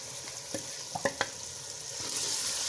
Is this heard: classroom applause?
no